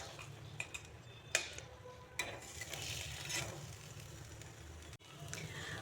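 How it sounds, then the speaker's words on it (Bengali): Bottle gourd leaf paste being stirred and dried in a pan, with a faint, quiet background of light utensil clinks and scrapes, a few sharper ticks and a soft sizzle. "কিছুক্ষণ নেড়ে চেড়ে ড্রাই করে নিচ্ছি।"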